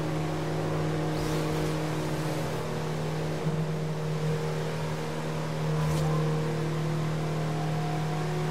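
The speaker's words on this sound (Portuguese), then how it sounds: "Olha o ronco daquela Ferrari ali na esquerda." A Ferrari engine roars in the racing game Forza Horizon 2, a steady droning hum with a brief swell midway, heard continuously without speech.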